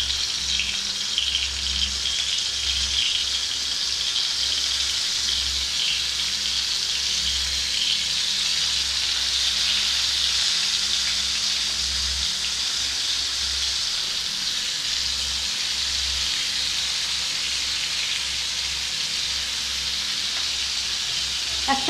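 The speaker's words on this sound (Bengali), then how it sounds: "একসঙ্গে তিনটে আমার করলা ভাজা হবে।" Stuffed bitter gourd koftas fry in hot oil over a medium-low gas flame, giving a steady, continuous sizzle with a bright hiss and a low background rumble that hold throughout without a break.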